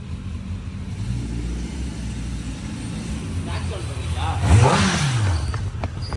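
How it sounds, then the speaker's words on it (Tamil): A car's exhaust drones steadily while driving, with a brief rising rev near the end, the engine note sitting low and fairly close under faint background voices. "இப்போ நம்ம MFC ப்ரோவோட எட்ஜாஸ்ட் சவுண்டு நாமளே ஓட்டி செக் பண்ணி பார்க்குறோம்."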